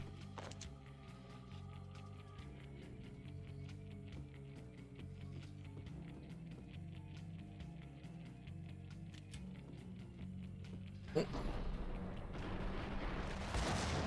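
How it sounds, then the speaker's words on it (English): Grenade launcher fire in the video game Max Payne: a steady rhythmic mechanical clatter under game music, then a sudden loud blast near the end followed by a roaring rumble. "that's a grenade launcher"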